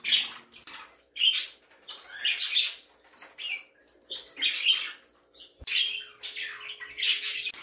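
Pet budgies chirp and chatter in bursts of bright, scratchy tweets close by, with short pauses between calls and a faint hum behind them.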